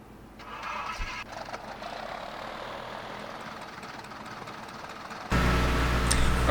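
A Piper Tomahawk's engine in Microsoft Flight Simulator X hums at a low, steady idle, then surges suddenly louder near the end as power comes up, with no talk over it.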